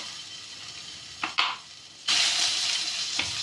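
Chicken pieces hit hot oil in a pan while cooking chow mein, giving a short clatter then a loud, steady sizzle and frying hiss that carries on alone to the end.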